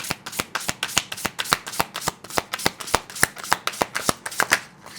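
Tarot cards being shuffled close up, a steady run of sharp, rhythmic riffling snaps at about four per second, loud and clear with no talking.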